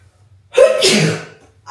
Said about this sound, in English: Oh God, I want to sneeze.